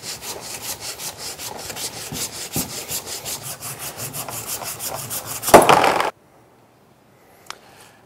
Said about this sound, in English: A regular wood saw will be able to cut through the block